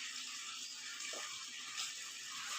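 Water pouring steadily onto potted plants during a home watering routine, a continuous broad hiss and splash with a brief trickling burst in the middle, fairly close and alone.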